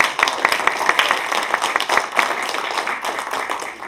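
An audience claps together in a steady wash of applause, close and fairly loud, filling the full moment with dense overlapping hand claps.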